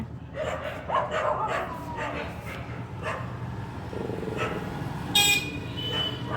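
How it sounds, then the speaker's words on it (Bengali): Several dogs bark and yelp at a distance, fighting with a stray from another neighbourhood, with voices talking nearby, and a car horn toots briefly near the end. "অন্য পাড়ায় ডগি একটা চলে এসছে, ওই জন্য ওরা ঝগড়া করছে, বকছে ওকে"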